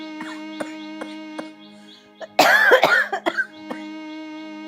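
A single burst of an elderly mother's harsh, raspy persistent coughing, close and loud, over a steady background musical tone with faint chirps.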